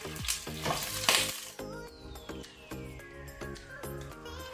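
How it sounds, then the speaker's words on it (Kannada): Ground paste of two large onions fries in a pan over a low flame, giving a soft, steady sizzle under louder background music. "ಈಗ ನಾವು ಈರುಳ್ಳಿಯನ್ನು ಒಳ್ಳೆ ರೀತಿ ಫ್ರೈ ಮಾಡ್ಕೊಳ್ಳುವ"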